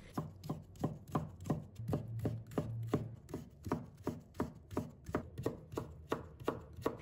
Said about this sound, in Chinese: 然后切成细丝